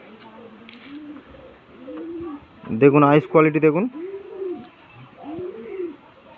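A golden male pigeon coos in a loud, close burst of throaty rolling calls in the middle, with softer coos before and after, while someone talks throughout.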